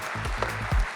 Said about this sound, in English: So big round of applause for Gautam Gambhir yet again